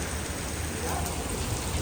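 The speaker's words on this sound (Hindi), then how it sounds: "ये तो क्रिस्टल क्लियर बारिश है" Light rain falls steadily in Japan, a soft continuous hiss of drops on surfaces close by with no distinct pauses.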